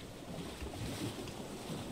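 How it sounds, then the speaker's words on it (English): Rain and ocean waves in the video game Summer in Mara form a steady, continuous wash of noise with no breaks, moderately loud and without any talk. "you can enjoy the, the rain and the waves because it's always waves and it's always rain"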